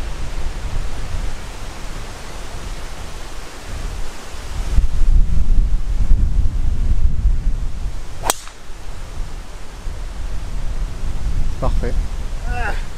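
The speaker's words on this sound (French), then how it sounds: "un gros vent de face" Strong headwind on a golf course buffets the microphone in a steady low roar, swelling louder midway, with a sharp crack and brief voices near the end.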